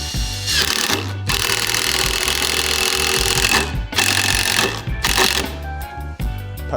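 A power drill drives screws into a wooden DIY ramp, with loud, sustained whirring bursts broken by short pauses, close and alone without talk.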